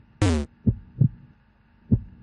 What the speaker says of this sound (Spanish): No me gusta el efecto ese del latido del corazón.